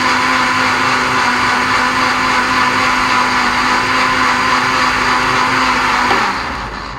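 A blender runs continuously at high speed with a steady whirring drone during a quick cleaning wash, loud and alone, then winds down near the end.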